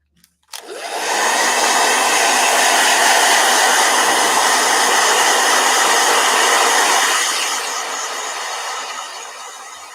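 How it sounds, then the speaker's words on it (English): A blow dryer switches on and blows with a loud, steady roar close by, then eases to a slightly quieter hum near the end. "All right, blow dryer."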